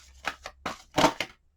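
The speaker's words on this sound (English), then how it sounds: "One more shuffle." Tarot cards being shuffled during an astrology reading, a handful of short papery riffling bursts in an irregular rhythm, close and fairly quiet, with no talking.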